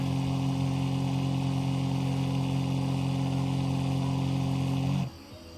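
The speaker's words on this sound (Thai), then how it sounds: "ทั้งพ่นยานะครับ ขนาด 20 ลิตรนะครับ แบบเทอร์โบคู่นะครับ" A 20-litre twin-turbo battery-powered sprayer applying foliar fertilizer hums with a steady, even motor drone close by, then abruptly cuts off just before the end.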